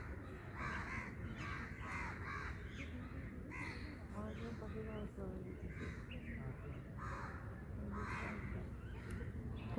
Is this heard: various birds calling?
yes